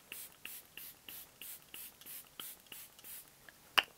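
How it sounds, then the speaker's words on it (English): Rapid repeated spritzes of a makeup setting spray bottle, about a dozen short hissing puffs in steady rhythm, close by, ending with a sharp click. "The last step is to spritz again."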